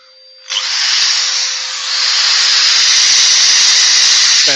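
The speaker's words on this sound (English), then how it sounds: "Helps if you turn the extractor on." An extractor fan switches on abruptly after a quiet moment, then runs as a loud, steady, close-up broadband whoosh with a slight dip and swell, with no voices over it.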